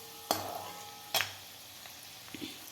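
Peanuts and coconut for chivda roast in a pan, with two sharp scraping stir strokes over a faint, steady sizzle and a softer clink near the end.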